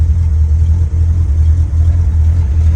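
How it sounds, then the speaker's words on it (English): A 1966 Ford Mustang's V8 idles up close through a true dual exhaust with an H-pipe, a deep, throaty, steady, heavy low rumble that barely changes throughout. "This is a true dual exhaust car with an H-pipe right after the transmission."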